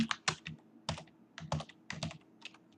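Typing on a computer keyboard, a quick, uneven run of crisp close key clicks in small clusters, quiet and without talk.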